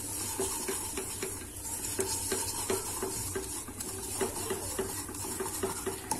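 Melted butter and maida flour being stirred in a pan, a spoon scraping in a steady repeated rhythm over a soft background hiss, close and fairly quiet.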